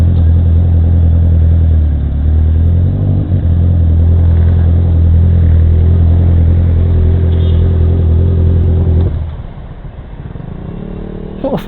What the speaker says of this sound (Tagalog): Off muna natin yung bike, ang ingay.